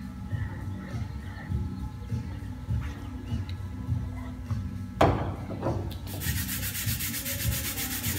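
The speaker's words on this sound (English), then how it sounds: "Use the plastic bristle brush." A plastic bristle brush scrubs an oiled steel barbell in steady back-and-forth strokes, a close, dry rubbing hiss with a few light knocks, turning to faster, brighter brushing near the end.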